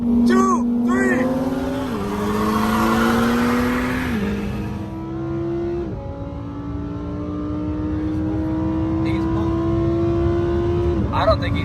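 Cars launch hard in a street race, engines revving high and climbing through gear shifts, loud and close, with people talking over the roar.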